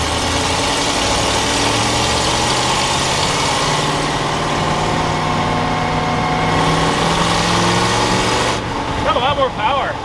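A 1986 Ford F250 pickup with a custom exhaust runs nearby, its deep, rumbling engine note steady and loud throughout, with a brief lighter sound near the end.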